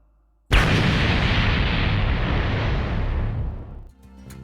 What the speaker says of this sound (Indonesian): Datang terlambat dan melihat Hiluluk meledakkan diri